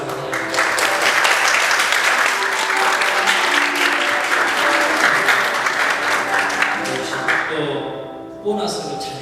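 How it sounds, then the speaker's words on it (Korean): A church congregation applauds during a Sunday service, a dense burst of many hands clapping close and loud for about seven seconds before tapering off into quieter room sound. "박수 한번 해주세요"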